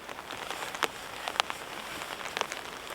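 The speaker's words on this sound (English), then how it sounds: "We've got this lovely light rain" Light rain falling in the New Zealand mountains at a winter camp, a steady soft patter on surfaces with a few brighter drop ticks, close and continuous with no voices.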